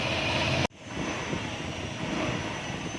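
A Motorstar motorcycle engine idles after water was drained from its fuel tank, a steady, close mechanical drone that cuts out briefly, then resumes and runs on evenly.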